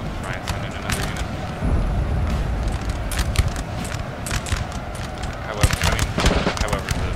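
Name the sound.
musket gunshots in video game Napoleon Total War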